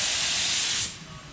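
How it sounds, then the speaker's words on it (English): A paint spray gun hisses loudly and close while spraying a 2007 Corvette C6 Z06 project car, a single steady burst that cuts off abruptly and leaves a quieter background. "Spray it."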